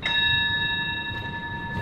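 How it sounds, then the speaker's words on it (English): A bell rings with a sustained, steady tone that holds for under two seconds over a low background rumble, marking the start of an activity in a room. "I'm going to signal it with the bell"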